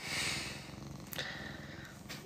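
A pet cat purrs close to the microphone, a soft continuous rumbling with a rhythmic pulse, steady throughout and without any talking.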